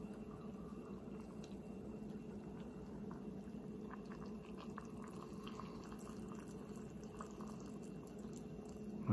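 Boiled water pours steadily into a Cup of Noodles, a soft, continuous liquid trickle with faint splashes and drips running evenly throughout, quiet and alone.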